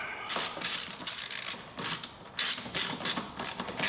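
A ratchet wrench clicks in quick repeated bursts while tightening a fastener during a PRL Cobra intake install on a 2017 Honda Civic Si, close and crisp with short pauses between strokes.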